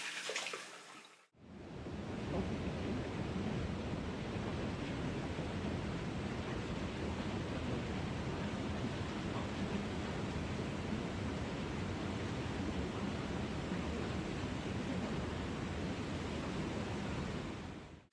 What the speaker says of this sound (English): So let me rinse off real quick.